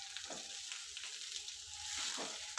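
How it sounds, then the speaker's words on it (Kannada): Mint leaves fry in a hot kadai for pudina chutney, a soft, steady sizzle heard close but quiet, with a few brief stirring scrapes. "ಇವಾಗ ಪುದೀನ ಸೊಪ್ಪು ಸೇರಿಸ್ಬಿಟ್ಟು ಒಂದು 3 to 5 ಮಿನಿಟ್ಸ್ ಫ್ರೈ ಮಾಡಿಕೊಂಡ್ರೆ ಮುಗೀತು"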